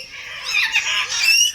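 Small, colourful lory parrots in a zoo aviary give shrill, rasping squawks, several overlapping calls in quick succession, fairly close and loud against a quiet background.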